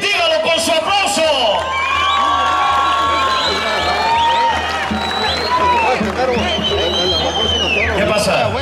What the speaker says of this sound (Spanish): dígalo con su aplauso.